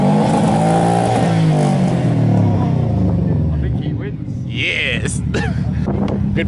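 Car engines rev at a car meet on an abandoned airfield, a loud continuous drone of motors with wind buffeting the microphone and people talking nearby, a brief dip partway through.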